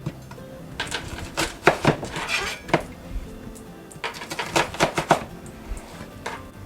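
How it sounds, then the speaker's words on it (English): A white onion being chopped into pieces for collard green soup with Portuguese sausage and beans, a close series of sharp knife-on-board knocks in uneven bursts with short pauses. "we're going to take a white onion and we're going to chop this up too"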